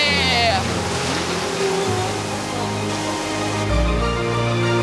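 Waterfall at Plitvice Lakes, Croatia, a broad continuous roar of rushing water, loud and steady, with a voice speaking over it.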